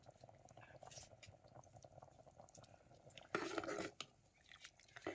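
Fish curry with fresh coconut bubbling at a rolling boil on a wood-fired clay stove, a soft steady simmering patter with a louder burst of bubbling midway.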